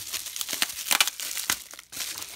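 Tape being cut from bubble wrap packaging while unboxing a Zippo lighter, a run of close crinkling and brief tearing rustles in irregular bursts, with no speech.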